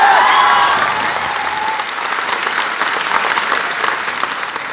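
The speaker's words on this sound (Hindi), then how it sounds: "बजाओ ताली" Audience at a motivational talk for board exam students breaking into loud applause that swells at the start and then settles into steady, dense clapping for several seconds, with no talk over it.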